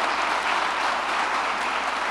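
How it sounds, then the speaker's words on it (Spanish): A church congregation applauds during a sermon, steady dense clapping held at an even level throughout without a break. "Y quiero pedirte que le des un aplauso a Dios por eso."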